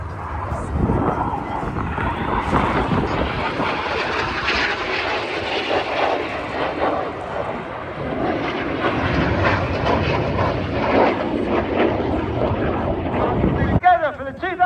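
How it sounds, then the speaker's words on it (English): Red Arrows aerobatic jets of the Royal Air Force at the Cosford airshow roar overhead in a sustained, loud, rushing engine noise with wind buffeting the microphone, and a commentator speaks over it. "These aircraft form a barrel followed by inverted flight in a manoeuvre called the crossbow."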